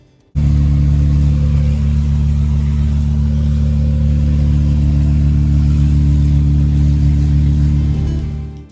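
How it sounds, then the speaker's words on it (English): A broken camper van's engine drones loudly and steadily while driving, a deep, rough, unchanging rumble that starts abruptly and fades at the very end. "we were driving around in a van which sounded a bit like this"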